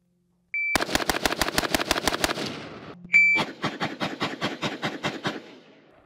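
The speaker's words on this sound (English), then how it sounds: "For the third test with 300 blackout, no grips. We're going to be doing 10 rounds on target." Two quick strings of rifle fire from a 300 Blackout shot without grips, ten sharp, loud, evenly spaced reports in total, each preceded by a short timer beep, with faint ringing decay between bursts.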